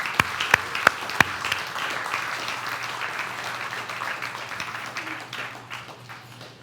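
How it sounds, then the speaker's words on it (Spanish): A church congregation at a Spanish-language worship service breaks into applause, opening with a few sharp, distinct claps before settling into sustained, dense clapping from many people that gradually fades. "Den un aplauso al Señor"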